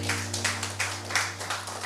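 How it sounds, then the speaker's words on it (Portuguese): A church congregation gives a round of applause, scattered moderately loud claps in an irregular rhythm over a steady low electrical hum. "Dá uma salva de palmas, querido."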